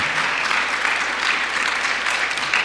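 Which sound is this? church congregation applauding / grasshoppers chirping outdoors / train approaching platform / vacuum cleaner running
church congregation applauding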